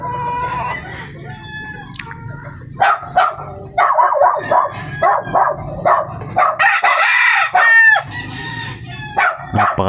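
Gamecocks being readied for a cockfight crow loudly and repeatedly at close range, with several drawn-out calls in quick succession, some overlapping, and occasional clucks and a dog barking in the background.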